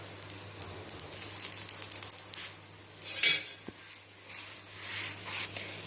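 Jowar roti frying on a hot pan as oil is added around its edge, a soft continuous sizzle with a few light metallic clinks of utensils against the pan.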